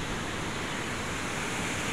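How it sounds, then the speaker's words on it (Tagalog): Waterfall behind a garden above a river, a steady broadband rush of falling water, moderately distant and unbroken, with no voices. "May falls sa likod ng garden."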